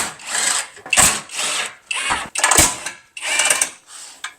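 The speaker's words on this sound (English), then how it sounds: "we're going to want to undo the 4 10mm bolts that are holding it in place on both" A power tool undoes the 10mm radiator bracket bolts on a Ford Focus ST in short whirring bursts, about five runs separated by brief pauses, close and loud, with no talking.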